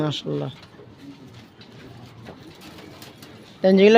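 Soft coos of Jira Blood pigeons murmur faintly in the background, with a brief voice at the start and a louder voice breaking in at the end.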